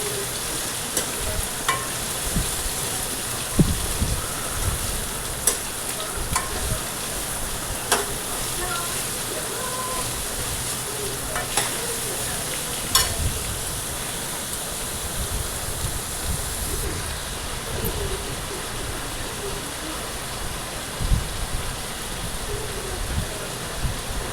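Onions fry in a pan for bhindi sabzi, a steady close sizzle and crackle with occasional sharp pops and spatula scrapes throughout, no talking over it.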